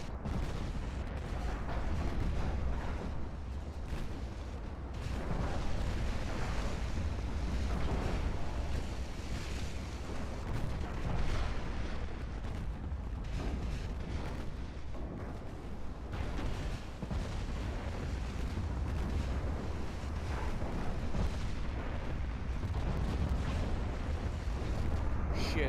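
Warship secondary guns keep firing in Ultimate Admiral Dreadnoughts against light cruisers. A continuous dense rumble of ocean and wind runs throughout, with repeated muffled gun reports scattered across the long stretch.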